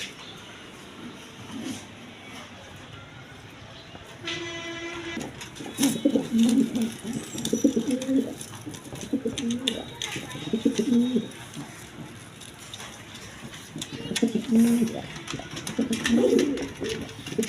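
Pigeons coo repeatedly on a pigeon farm, a cluster of low, rounded calls sounding close and fairly loud in bursts, with a brief chirpy tone early on and steady background hiss between phrases.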